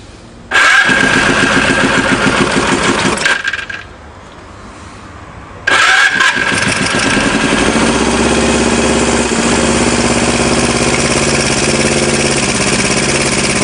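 An engine with late inlet valve closing idle control fires up loud and runs hard at full throttle, then drops off and cuts out. It restarts abruptly and settles into a steady, loud run.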